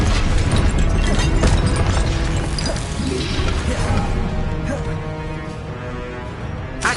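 A Confringo blasting spell going off in a Harry Potter video game, a loud, dense explosive burst up front that rumbles and fades away over several seconds, no talk.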